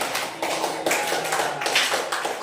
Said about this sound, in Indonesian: Ya, tepuk tangan dong buat kita dan Randy.